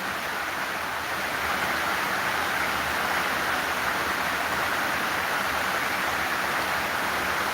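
Rain falls around a 2025 AFCON football match between Morocco and Comoros, making a continuous, even hiss of heavy rainfall heard alone with no talking.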